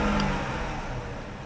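An auction car, a worn hooptie, idling and starting to roll in drive, a steady low engine drone with a slight rise and faint whine, close and fairly loud with no talk.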